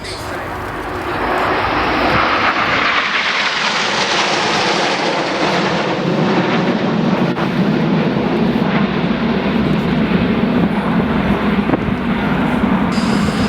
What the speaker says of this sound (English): sitting amongst the other 7 aircraft here at about 4G, 400 miles an hour in diamond